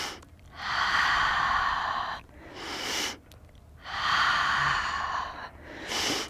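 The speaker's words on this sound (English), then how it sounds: "Keep breathing." Slow, deep breathing during a morning yoga stretch: two long, loud airy exhales, each followed by a quieter inhale, close to the microphone with no talk.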